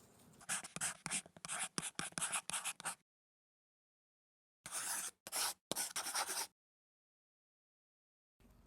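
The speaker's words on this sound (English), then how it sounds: "I sketch out the garden" Pencil sketching a garden plan on paper, quick close scratchy strokes in two bursts separated by a silent pause.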